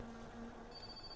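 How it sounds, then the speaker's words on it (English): A telephone rings in the video game My Summer Car, a steady electronic bell tone sounding fairly faintly over a low rumbling background of the in-game car. "That is the phone call."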